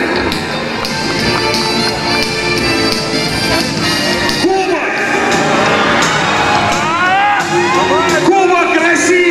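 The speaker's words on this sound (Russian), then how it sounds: "Ваши аплодисменты, дорогие друзья." Arena crowd at a basketball cup final cheering, whooping and applauding loudly and continuously, with shouts rising over the din and a voice over a PA.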